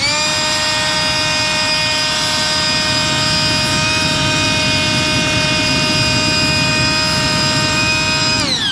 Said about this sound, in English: what saved the day was Jobbo's Bushcraft Essentials Ryobi air blower